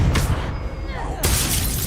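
A Confringo blasting spell in Hogwarts Legacy erupts as a sudden, sharp crashing blast right after a voice calls out, with game noise around it.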